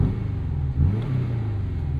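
A 2024 Porsche 718 Boxster Style Edition with a 2-liter flat-four and active exhaust fires up, a deep rumbling idle note that swells briefly and then holds steady, close and loud throughout.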